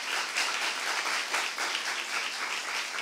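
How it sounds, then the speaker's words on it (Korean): Congregation applause at a Saturday church worship service, a steady dense wash of clapping that holds evenly for a few seconds with no voices over it. "박수하세요"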